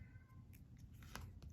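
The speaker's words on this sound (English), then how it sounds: "I don't know if you can hear my cat meowing in the background" A cat meows a few times in the background, quiet and distant, with short cries scattered over a low room hum.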